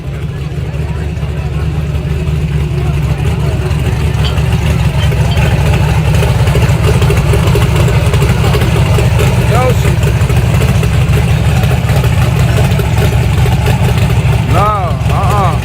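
A twin-turbo small-block car engine with an aftermarket block idles steadily and loud at close range, a continuous low rumble throughout, with people talking over it at a drag racing shootout event.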